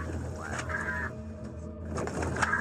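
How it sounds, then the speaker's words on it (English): A dying Bryde's whale off Thailand gives faint, hoarse, wavering tonal cries, two brief calls separated by a pause, over a noisy, hissing background. "This is the sound of a dying whale."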